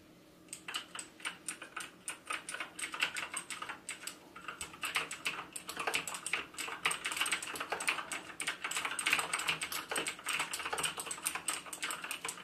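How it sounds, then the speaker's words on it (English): Typing on a Razer BlackWidow 2014 Expert mechanical keyboard gives a steady run of sharp, clicky keystrokes, close and fairly loud, with short pauses between bursts and no voices. "there you can hear the clicks on the keyboard"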